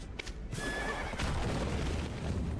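A horse in a video game neighs loudly with a long whinny, mixed with clip-clop hoofbeats over a steady noisy game background.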